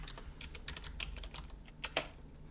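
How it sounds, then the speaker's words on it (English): Typing a command into Windows PowerShell on a computer keyboard, with a quick, uneven run of soft, close key clicks and a couple of sharper taps near the end. "we can type in ns lookup once again"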